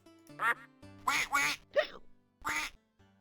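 Cartoonish duck quacks from the Freddy Pharkas: Frontier Pharmacist computer game, five loud, nasal calls at close range in an irregular rhythm over a quiet tonal background.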